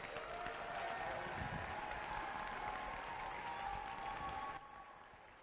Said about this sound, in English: please give her a big, warm Sacramento round of applause